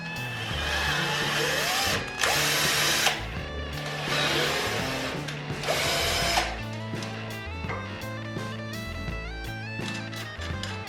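A power tool driving bolts on a homemade metal bicycle trailer, several short whirring bursts with pauses and clanks between them, close and loud.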